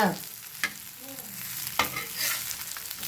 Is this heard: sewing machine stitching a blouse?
no